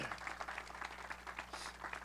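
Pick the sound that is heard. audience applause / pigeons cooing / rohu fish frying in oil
audience applause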